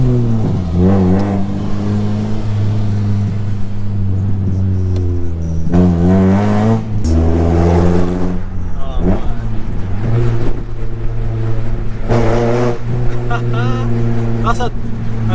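Loud straight-piped Honda Civic EP3 Type R engine heard from inside while driving, revving up and down in repeated surges with harsh, droning exhaust tones, as someone talks over it.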